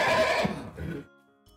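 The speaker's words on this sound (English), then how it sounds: "H for horse." One horse whinny, a loud shrill neigh that trails off into lower shuddering breaths, then brief quiet.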